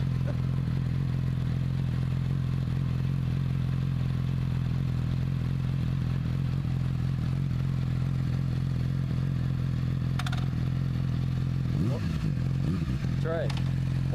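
A heavy sport motorcycle engine idles steadily and loudly up close, with a low constant drone, then a couple of brief throttle blips near the end mixed with some clatter.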